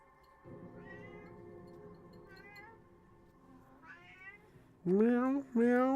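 A cat meows several times, starting soft and drawn out, then two loud, close, insistent meows at the end.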